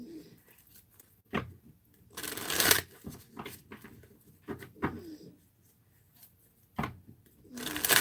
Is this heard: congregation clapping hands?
no